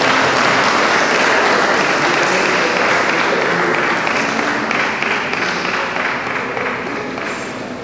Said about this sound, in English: Please, a loud round of applause to please bring the Vice President to the high table.